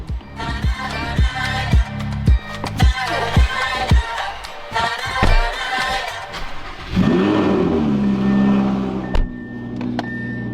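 Audi R8 V10 rear-wheel-drive sports car engine revving, with loud, close harmonic engine tones rising and falling over sharp mechanical clicks, then settling into a steadier drone.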